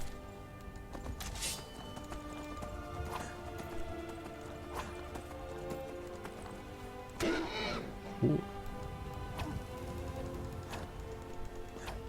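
Horse hooves clip-clop steadily in Skyrim, with a whinny or snort partway through. The sound is moderately quiet over low game ambience, and no one speaks.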